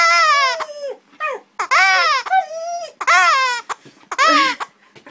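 A baby cries in loud, wailing bursts separated by short gasping pauses, close and clear, with no other sounds around.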